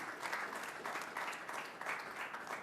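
A crowd at a business expo applauds a commerce secretary, a steady, fairly quiet round of clapping sustained throughout, with no speech over it.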